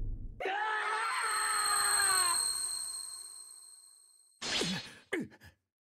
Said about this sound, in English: That scream just now.